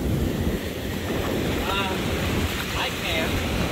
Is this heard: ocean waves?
yes